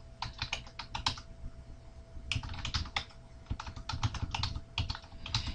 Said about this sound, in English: You do that by clicking on that icon and typing in your username and password.